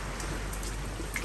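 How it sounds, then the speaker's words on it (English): Steady rain drumming on a sailboat riding at anchor in the Bay of Islands during a January gale, a dense, even hiss of drops with a few brighter spatters, no voices. "the rain's still continuing"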